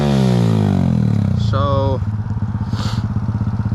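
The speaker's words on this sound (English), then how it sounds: "today I'm driving my Yamaha with my friend" A Yamaha YZ85 dirt bike on a forest trail drones loud and close, its engine falling in pitch, then settling into a rough, pulsing idle-like rumble. A voice briefly speaks over it.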